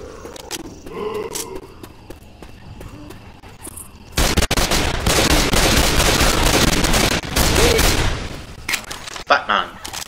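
Dual-wielded pistols fire in Left 4 Dead 2 as a dense, loud barrage of rapid shots for several seconds, preceded by quieter game sounds, with a player talking over it.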